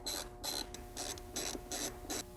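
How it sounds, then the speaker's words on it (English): A 10mm socket ratchet turns out bolts on a Fiat 500, giving a steady series of six quick, close raspy clicking strokes in an even back-and-forth rhythm. "we'll start by removing the two bolts with our 10mm socket"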